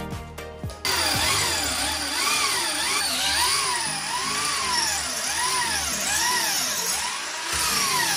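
A power drill bores holes into a wall while a TV wall mount is installed for a 65-inch TV. After a short start it runs loud and close, its motor pitch rising and falling in repeated surges as the bit works in.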